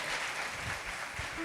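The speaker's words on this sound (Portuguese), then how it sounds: "Quero que você receba com aplauso ao Senhor" A church congregation applauds to welcome a newly baptized member, a steady dense wash of clapping from many hands filling the room.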